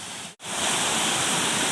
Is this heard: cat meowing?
no